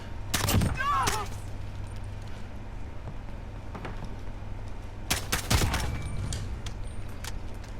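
Gunfire in a video game's aim-training mode with ten rounds: two sharp, separate shots several seconds apart, each with a short ringing tail, over a low steady background hum.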